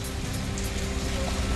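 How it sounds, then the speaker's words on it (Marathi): Heavy monsoon rain falls across Ahilyanagar district in Maharashtra, a steady dense broadband wash that stays loud and unbroken from start to end, with no voices over it. "अहिल्यानगर जिल्ह्यात पावसाचा जोर वाढलाय।"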